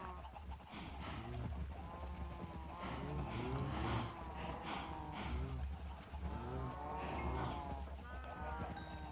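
Cows in Minecraft 1.17.1 low and moo repeatedly in a crowded farm pen, their overlapping calls forming a steady, busy chorus throughout.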